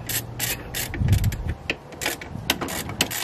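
Brake booster nuts are tightened in a crisscross pattern with a ratchet, giving close, quick bursts of clicking and brief metallic scrapes, with no speech.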